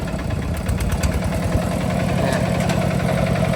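A farm tractor engine idles close by with a loud, steady, low chugging rumble and vibration that does not change.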